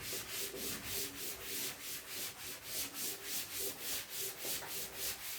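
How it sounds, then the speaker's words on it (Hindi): Rhythmic back-and-forth rubbing of an eraser wiping writing off a board, about a dozen even strokes over five seconds, close and fairly quiet with no talking. "तो इसको रब कर देते हैं"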